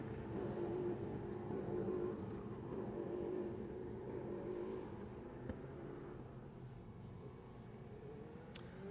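Racing cars at the Montmelò circuit during a Speed Euroseries race, a continuous loud engine roar and rumble that holds steady throughout, with no talk over it.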